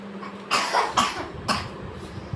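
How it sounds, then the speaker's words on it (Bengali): Three sharp coughs from someone unwell at home, spaced about half a second apart, close and fairly loud over a quiet room. "এখনো কাশি ফুরায় নাই না?"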